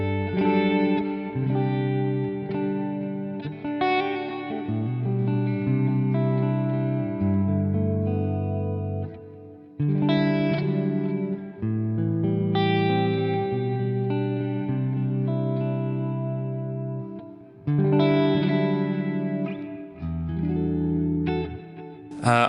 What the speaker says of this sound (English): now we've got our delay and reverb